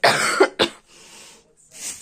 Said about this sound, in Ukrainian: Я також кашляю